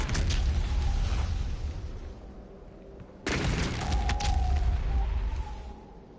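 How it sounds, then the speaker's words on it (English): Shotgun fire at explosives in the shooter game DOOM Eternal: a loud booming blast fades, then a second sharp blast hits with a rumbling explosion that trails off, no talking heard. "So I'll use my shotgun for this right now."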